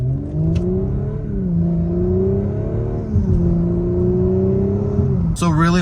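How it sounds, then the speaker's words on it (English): A turbocharged Audi S4 or BMW M340i engine drones loudly and close up, with rising and falling revs, before ending in a brief whooshing burst. "I mean, the car sounds so good."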